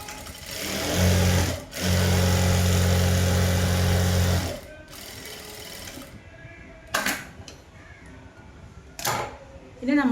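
A sewing machine stitching straight pants runs in two close, humming bursts broken by a short pause, then stops, followed by quieter handling sounds, with someone speaking over and after the stitching.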